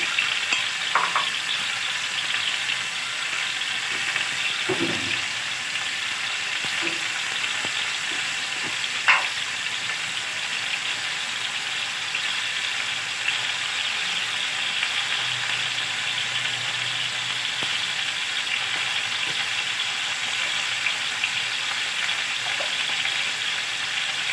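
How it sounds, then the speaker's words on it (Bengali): Mango pieces for a sweet mango pickle fry in a pan with a long, unbroken sizzle, close and fairly loud, with occasional light knocks and a faint low rumble at times. "এই আমটা আমি একটু ভাজা ভাজা করে নেব"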